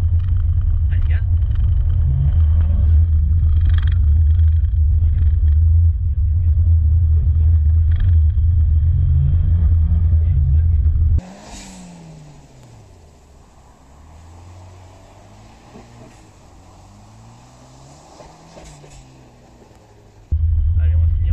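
A Mitsubishi car accelerating on a race circuit in Tignes, a loud steady engine drone with rising and falling revs, later dropping to a quieter, thinner engine tone.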